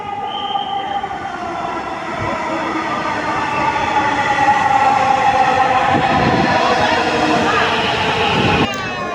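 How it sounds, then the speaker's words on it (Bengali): A train rumbles steadily close by at Diabari, Dhaka, with a rising metallic hum and rail noise, building slightly before a brief high squeal near the end. "তো এই যে ট্রেন আসতেছে আমাদের"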